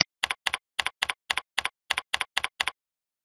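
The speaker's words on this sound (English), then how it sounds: "and type my question" Keys on a computer keyboard are tapped close by in quick, evenly spaced pairs of clicks, about a dozen strokes, and then the typing stops into silence.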